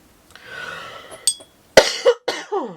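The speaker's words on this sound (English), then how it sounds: "This cough, I tell you what." Several sharp, loud coughs in quick succession, close up, following a stretch of quieter breathy sound.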